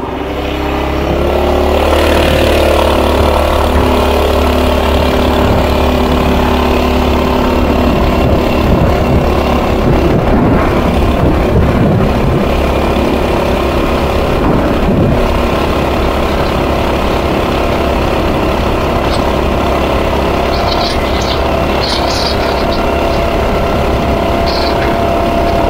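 A bone-stock Mega Moto 212 minibike engine runs steadily on a longer stretch of pavement, a loud, continuous mid-speed drone that holds near and constant throughout with no talk over it.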